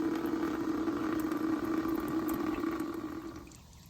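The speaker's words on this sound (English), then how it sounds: "drain off the water. Let that run for a second" Water drains steadily from the fuel filter housing of a 2022 Ford Super Duty diesel, a close, continuous trickling rush that holds even and then tapers off at the end.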